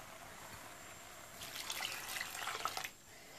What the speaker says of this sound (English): you just need to add the rest of your stock